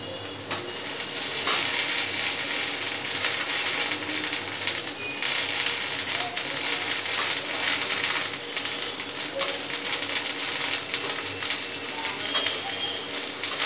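Potatoes, half-fried onions and green and ripe chilies sizzle steadily in a pan, a continuous close crackle with occasional stirring scrapes and clinks.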